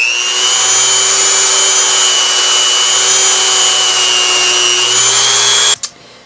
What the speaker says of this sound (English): I'm going to drill a small hole